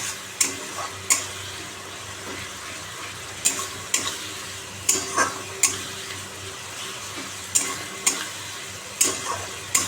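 Spiced jujube mixture with black pepper, turmeric and salt is stir-fried in a pan: a steady sizzle runs throughout while a spatula scrapes and clinks against the pan in repeated sharp strokes, close and fairly loud.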